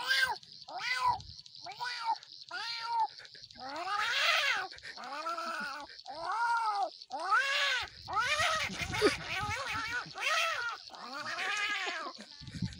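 A man imitates a cat, voicing a long string of drawn-out meows and yowling caterwauls one after another, loud and close, with a short pause between most calls.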